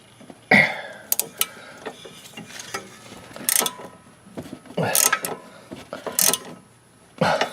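Short clicking ratchet bursts come in quick spurts as a nut is backed out on a 2004 Pontiac G6 stabilizer end link, close by, interspersed with handling noises and some faint muttering.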